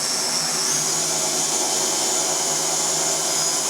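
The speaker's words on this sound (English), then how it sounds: "I'm going to take my drill. I picked a bit that's just a little bit wider than the wire itself. And I'm going to drill a hole through it" A power drill bores a hole widthways through a block, its steady high whine running continuously and loud throughout with no pauses, close up and alone.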